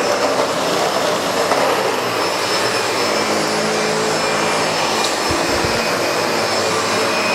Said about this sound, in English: you can hear the brush rolling